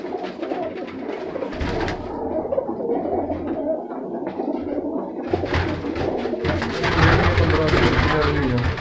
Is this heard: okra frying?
no